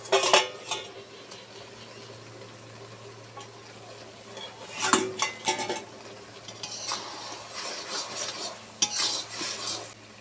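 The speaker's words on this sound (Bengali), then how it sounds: "আমি এখন ঢাকনা তুলে নেব" A lid lifted off a cooking pot on a home stove: a few sharp metallic clanks and scrapes stand out from low, steady kitchen noise, with no talking.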